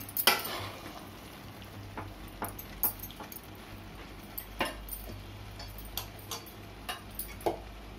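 A spoon stirs chicken fry biryani in a pan, giving soft scraping and light clinking strokes at irregular intervals over a low background hum.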